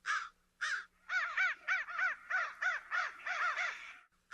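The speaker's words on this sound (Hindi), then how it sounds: "कौवे अपनी आदत के अनुसार आपस में एक दूसरे से कांव कांव करते हुए झगड़ रहे थे।" Crows caw harshly in a neem tree while quarrelling among themselves, a rapid run of about a dozen rasping calls, some overlapping, loud and close.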